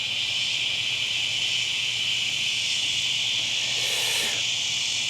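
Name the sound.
loud cicadas outdoors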